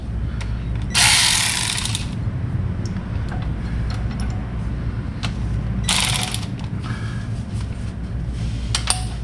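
Socket ratchet driving bolts on a 1977 Pontiac Trans Am during AC system work, heard as two bursts of rapid clicking about five seconds apart, close and fairly loud over a steady low hum, with faint scattered clicks between.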